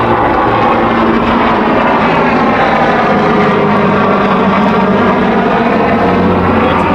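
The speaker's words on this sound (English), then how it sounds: "just to wait for the helicopter to pass or something." A helicopter passes overhead outside a New Orleans Saints press interview, a loud, steady rotor and engine roar filling the whole stretch without letup, with no voices heard over it.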